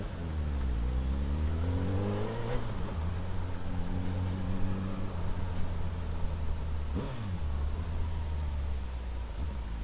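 A Suzuki B-King 1300 motorcycle engine idles loudly nearby, then revs up twice with rising, sweeping tones that drop back between blips, with no talking.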